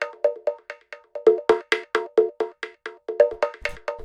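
Programmed deep micro house percussion run through a bandpass filter, a fast steady stream of short, bright cowbell-like hits in a shuffling repetitive pattern, clean and close with no voices.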